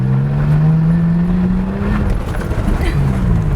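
A truck accelerates on an unpaved off-road track, its engine droning loudly and rising steadily in pitch over a rumbling, rattling ride, heard close from inside the cab.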